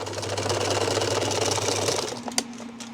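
A sewing machine stitches a dress with a fast, steady mechanical whir for about two seconds, then slows and stops, leaving a faint hum and a single click, close and clear without talking.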